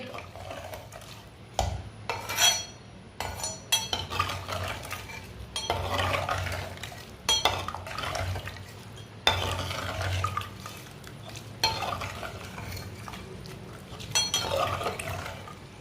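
Soaked rice is stirred into mutton pulao in a metal pot. A spoon scrapes and clanks against the pot in irregular, close strokes over a faint sizzle.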